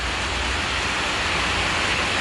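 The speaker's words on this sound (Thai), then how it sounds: "ตอนนี้ด้านนอกอากาศ เริ่มฝนเริ่มตกแล้วนะครับ" Steady rain falls outside, a broadband hiss that holds evenly at moderate level for the whole stretch, with no voices over it.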